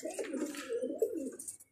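Pigeons on a rooftop loft give soft, throaty cooing in a steady run of close calls, fairly quiet, with no talk over them.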